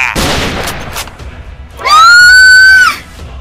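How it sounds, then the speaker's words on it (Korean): A single drawn-out high-pitched scream, loud and close, lasting about a second after a few sharp noises and brief indistinct sounds. "이 비명 소리는"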